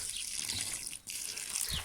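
Garden watering of strawberry plants and chrysanthemums, a steady close splash and trickle of running water that dips briefly near the middle, with no talking.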